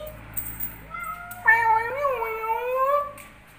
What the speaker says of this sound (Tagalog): Ito nang pusa ko. Gustong lumabas, oh.